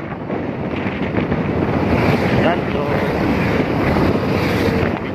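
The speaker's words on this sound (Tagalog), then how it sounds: "medyo mahangin, ha. Mahangin din natin pa." Steady wind buffets the microphone at sea on a ride from Catbalogan City toward Villareal, Samar, a continuous loud rush with boat and water noise beneath, and a brief voice speaks near the end.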